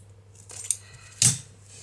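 Scissors snip through crochet yarn after fastening off, a single crisp metallic cut near the mic in an otherwise quiet room, preceded by a faint click.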